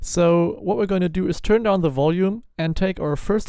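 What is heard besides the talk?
No distinct noise like a dog, phone or traffic.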